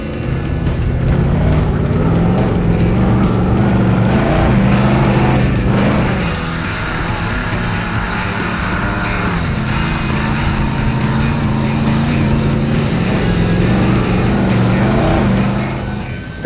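Toyota 4Runner race truck accelerating hard off the start line at a desert race, a loud, continuous engine roar with steady droning harmonics that holds for the whole stretch, with a slight dip midway before building again.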